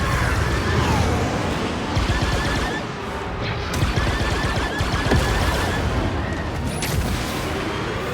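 Ship guns and cannons firing in the Star Wars Outlaws video game: a dense, loud, continuous barrage of rapid shots and booms with crashing impacts, lasting the whole stretch without a pause.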